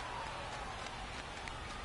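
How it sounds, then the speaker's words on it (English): Rain pours down on an outdoor baseball game in Portland, a steady, dense hiss that holds at an even level for the whole moment with no clear voices over it. "the rain's still a factor here"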